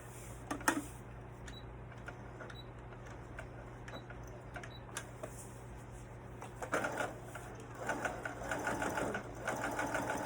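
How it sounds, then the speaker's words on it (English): A sewing machine stitches faux fur in reverse with quiet, intermittent mechanical whirring that grows busier and more rapid toward the end. "So actually, I'm gonna sew it backwards."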